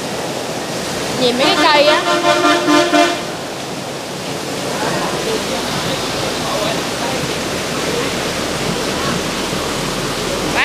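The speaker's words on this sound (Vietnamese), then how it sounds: "Trời ơi, gió luôn nè. Lốc xoáy luôn nè." Strong storm wind roars in a continuous, close rush of noise. A vehicle horn honks repeatedly near the start, and someone speaks briefly over the gusts.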